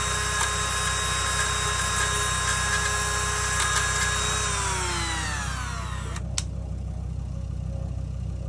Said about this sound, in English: the Dremel drill was doing a fine job